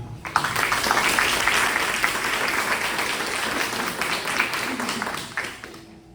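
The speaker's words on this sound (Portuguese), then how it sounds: "dê um forte aplauso ao Senhor" Sustained applause from a large church congregation fills the space, steady and loud, then fading slightly toward the end.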